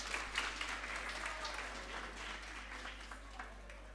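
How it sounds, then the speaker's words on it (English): Applause from a forum audience greets a professor called to the podium; steady clapping fills the room at moderate, somewhat distant level with no talk over it. "A round of applause for her."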